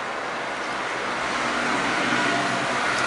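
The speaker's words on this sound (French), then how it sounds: "désolé si vous entendez le bruit des voitures, on n'est pas très loin d'une route, il y a beaucoup de circulation" Steady broadband roar of heavy car traffic on a busy nearby road, constant and fairly loud with no talking.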